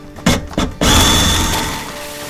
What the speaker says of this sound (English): now all that's left is to drill through it and get the sink set in place